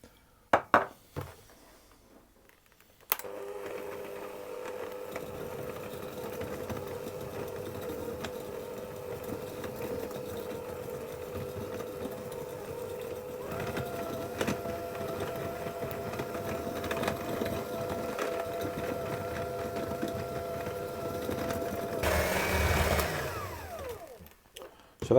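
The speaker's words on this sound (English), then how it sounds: "So I'll cream the sugar into the butter until it's well mixed and nice and fluffy." A stand mixer beats sugar into butter for biscuit dough, a steady motor whir with a rhythmic churning rattle that runs close and continuous for over twenty seconds, growing slightly louder near the end.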